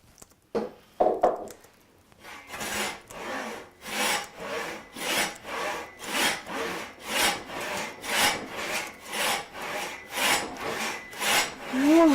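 Long rhythmic saw strokes rasp through a wooden beam being resawn by hand, about a dozen even back-and-forth pulses after a few knocks and handling sounds at the start.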